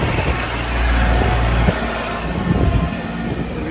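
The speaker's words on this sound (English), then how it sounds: "Real stealthy sounding motor there" A 2011 Kubota L3200 four-wheel-drive tractor engine idles close by with a steady, quiet, even diesel rumble.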